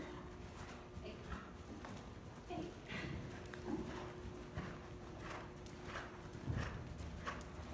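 Horse hooves clip-clop at a steady walking rhythm during a riding lesson on a horse, the footfalls moderately close and fairly soft, with quiet talk from a rider or instructor in the background.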